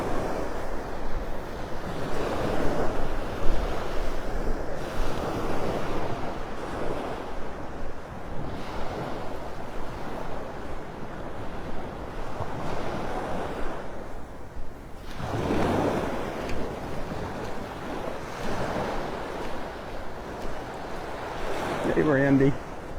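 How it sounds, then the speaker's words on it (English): Ocean waves roll in on the beach at Delnor-Wiggins in North Naples, Florida, a steady broad wash of surf with wind noise on the microphone and a louder surge near the end. "We still have the beach."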